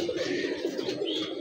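Pigeons coo in a steady, continuous murmur of low, rounded calls, fairly close, with no talking.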